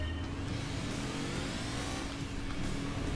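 Race car engines from Gran Turismo 2 roar continuously, a dense, loud revving drone with shifting pitch as the cars accelerate through a license challenge, no talking over it.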